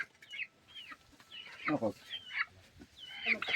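A chicken clucks in short, scattered bursts close by outdoors, mixed with soft talk in Filipino.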